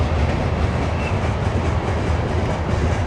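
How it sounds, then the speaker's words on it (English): A BNSF westbound grain train rolls past in Spokane Valley, Washington, a dense continuous rumble and clatter of rail cars, loud and steady throughout with no voices. "I see a train way down there"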